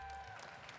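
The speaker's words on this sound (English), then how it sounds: "Give him a final round of applause." Brief burst of applause from a crowd at a Smash Ball team tournament final, dense and steady, fading slightly toward the end.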